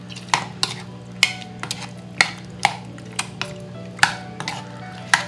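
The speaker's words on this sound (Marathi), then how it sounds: "आणि हे बरें मिक्स करता" A spoon stirring chicken lollipop marinade in a bowl, knocking and scraping in a steady series of close, sharp clinks about every half second, with no voices.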